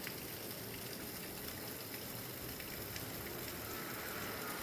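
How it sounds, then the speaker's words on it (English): Steady rain falls outside in an even, continuous broadband hiss with no gaps, moderately loud and unaccompanied by voices or other distinct sounds. "Just listen to the rain for a minute."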